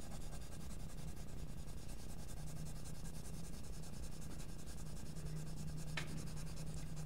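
Graphite pencil sketching freehand wood grain texture on paper, a continuous soft scratchy rubbing with one brief sharper tick near the end, close and quiet, no voices.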